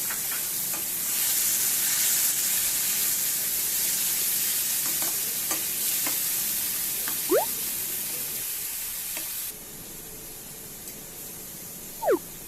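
Ground tomato paste sizzling and frying in a pan for Punjabi-style mixed dal, with a steady hiss, occasional scraping stirs, and a few sharp spoon clinks on the pot; no talking.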